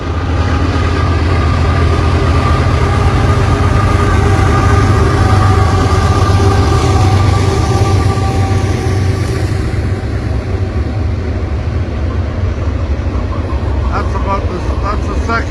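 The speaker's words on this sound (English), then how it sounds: "That's the second train in about 10 minutes." A train passes near a parked camper van on the road to Thunder Bay, a loud continuous low rumble and rolling rail noise that holds steady for about fifteen seconds before easing slightly.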